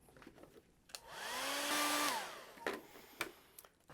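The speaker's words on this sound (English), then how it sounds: "Hit it with the blow dryer again." A blow dryer hums steadily for about a second and a half, drying primer on EVA foam, with soft handling clicks and taps before and after the burst of air.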